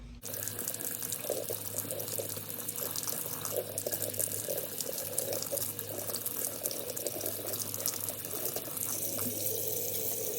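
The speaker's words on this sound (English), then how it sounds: "I'm going to take off this label, and I'm just going to do it in the sink." Tap water runs steadily into a sink while a label soaks off, a close, continuous splashing rush with faint clinks, holding an even level throughout and no voices.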